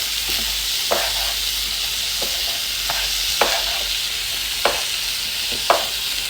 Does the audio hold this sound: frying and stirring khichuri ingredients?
yes